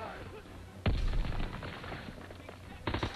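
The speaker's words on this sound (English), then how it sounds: "I was riddling him with bullets." Gunfire in the World War II shooter Call of Duty WW2, with a heavy burst of shots followed by a second volley a couple of seconds later, fairly loud and close.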